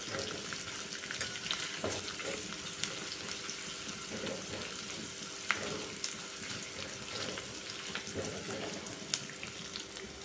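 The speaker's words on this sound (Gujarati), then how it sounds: "વઘારને એકદમ સારી રીતે મિક્સ કરી લઈશું" Hot oil sizzles steadily in a pan as a spice tempering with curry leaves and asafoetida is stirred, spoon scraping, with scattered clinks and crackles throughout.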